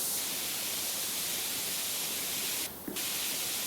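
A pressure washer sprays water in a steady, hissing broadband rush, fairly quiet and distant, with a brief dip near the end where the spray pattern shifts.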